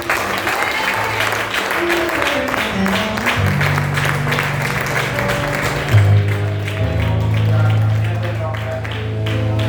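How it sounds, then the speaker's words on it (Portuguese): A church congregation applauds during a worship service, steady clapping over sustained organ or keyboard chords, with a voice speaking through part of it. "Uma salva de palmas para a serva."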